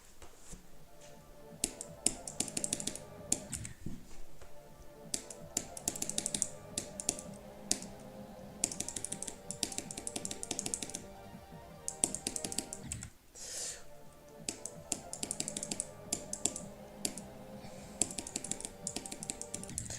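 A computer keyboard is hammered hard with fast, dense clattering keystrokes that run steadily with brief pauses, close and loud, with no voices.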